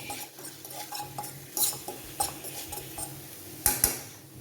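Drumstick leaf curry stirred in a pan, soft rhythmic scraping and light clinks of a spoon against metal, a few sharper knocks near the end, quiet and close with no talking.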